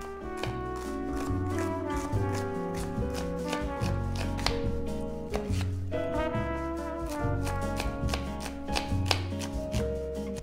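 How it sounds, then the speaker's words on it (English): A knife finely minces red onion on a cutting board, a quick, even run of chopping taps set under loud, continuous background music with no talking. "get some red onion cut up, and you just want it nice and finely minced"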